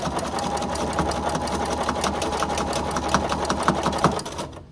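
A home sewing machine stitches straight lines through quilt layers, its dull needle making a slight popping. The close, steady motor whir and rapid needle chatter run continuously, with faint repeated pops on top, until the machine slows at the end.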